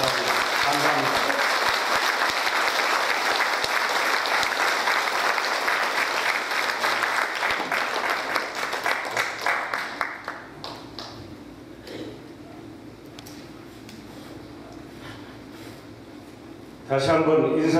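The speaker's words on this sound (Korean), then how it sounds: "여러분 뜨거운 박수로 환영해 주시기 바랍니다" An audience at a Korean Veterans Association security meeting claps loudly to welcome a speaker, dense applause that fades after about ten seconds before a short burst of sound at the end.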